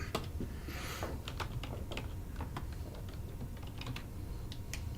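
Fast typing on a computer keyboard, a rapid irregular run of sharp close key clicks over a steady background hum, with no talk.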